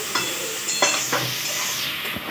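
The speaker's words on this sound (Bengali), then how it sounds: "নাড়িয়ে নিচ্ছি।" Maggi noodles being stirred in a pan, with a steady frying hiss under several distinct scraping strokes of a spatula, close and without talk.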